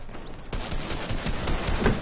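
Gunfire crackles in a Fortnite match. After a short lull comes a sudden rapid burst of shots that keeps going in quick repeated cracks, loud and close, with no voices over it.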